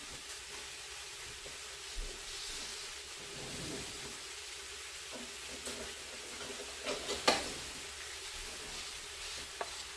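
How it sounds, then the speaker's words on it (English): Chunks of beef starting to cook in a hot Power Pressure Cooker XL pot, a steady soft sizzle with a few louder pops and scrapes near the end. "Let that get hot. Start cooking the meat."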